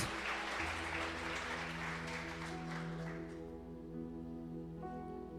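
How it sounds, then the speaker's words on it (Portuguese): A church congregation applauds during an evening revival service, with a soft, dense patter of clapping over sustained keyboard chords that thins out after a few seconds, leaving the music ringing on. "Aplauda o Senhor nessa noite, o melhor que você puder."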